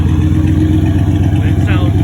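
A turbocharged 1991 Fox-body car with a T56 gearbox runs with a steady, close, loud engine drone, holding an even note through the short stretch.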